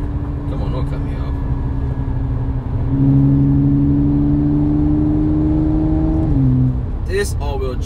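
A supercharged V6 Audi S5 coupe accelerating on the interstate, heard from inside: a loud, steady engine drone that rises in pitch and strength midway, holds, then drops as a shift or lift-off comes, with brief noises at the end.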